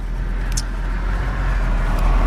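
A 1963 Chevrolet Nova two-door hardtop idles through dual exhaust, giving a steady low rumble close by with no break.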